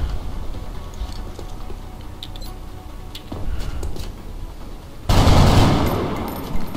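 Gunfire from soldiers in the turn-based strategy game XCOM: Enemy Unknown, starting as scattered faint clicks and crackles, then erupting into a loud, dense burst of shots in the final seconds.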